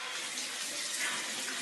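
Water runs from a tap as a bath is prepared, a steady, soft hiss that holds even and unbroken for under two seconds with no voices.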